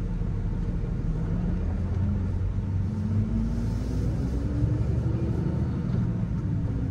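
A Ram 3500 Mega Cab with a Cummins diesel and six-speed manual pulls away in second gear, a steady low engine drone and road rumble filling the cabin, with the pitch rising slightly as it accelerates.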